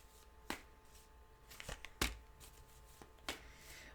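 Tarot-style cards are shuffled for a card reading: quiet, crisp riffling snaps and soft slaps arrive in short irregular bursts, close by in a calm room.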